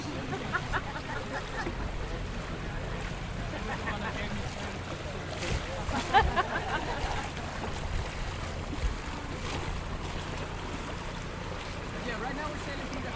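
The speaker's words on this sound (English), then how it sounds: "I have a lot of loud boats going by" Boats passing along a canal in Amsterdam's Oude Schans, heard from aboard a sailing boat as a steady low engine and water rumble with wind noise throughout, loud and continuous for the whole stretch.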